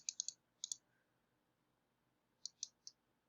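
Computer mouse clicks, close and crisp: a quick burst of three, then a double click, a pause, and three more spaced clicks in a quiet room.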